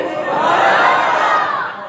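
During a Friday Ramadan sermon, a large congregation shouts a slogan in unison, a dense roar of many voices rising and holding for about two seconds, loud and reverberant.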